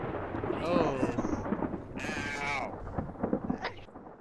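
Lightning bolt strike with thunder in a chaotic multiplayer video game, a bright crackling burst roughly mid-clip amid game noise, with short exclamations from a player around it.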